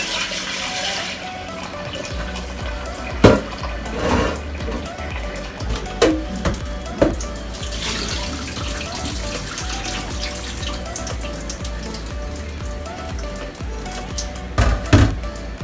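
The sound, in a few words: water running from a tap, for cooking black beans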